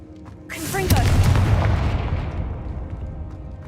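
Confringo blasting spell explosions in the Hogwarts Legacy video game: a rising magical whoosh, then a loud booming blast that rolls and fades over a few seconds, close and heavy.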